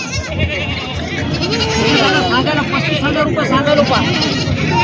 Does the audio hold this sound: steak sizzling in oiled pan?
no